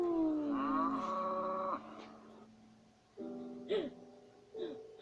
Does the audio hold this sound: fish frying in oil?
no